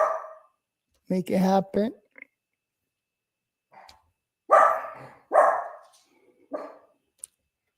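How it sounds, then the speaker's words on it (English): Dogs bark at a home: three loud, close barks spaced about a second apart, then a short yip, following a brief bit of someone talking. "my dogs are barking"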